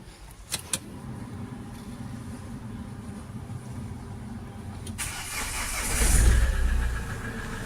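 A Mahindra XUV500 engine cranks and catches after a few clicks and a quiet pause, the starter whirring into a steady idle.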